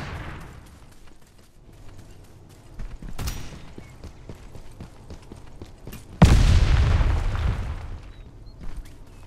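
Heavy booms of an artillery strike in the game Farlight 84, with one sharp blast and then a louder crashing explosion that rumbles on, over steady game background noise.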